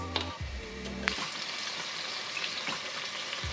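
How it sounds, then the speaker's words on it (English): Scotch bonnet peppers and onions frying in a pan: a steady, close sizzle with a couple of brief clinks and stirring scrapes. "I'm just gonna fry the Scotch bonnets in with the onions"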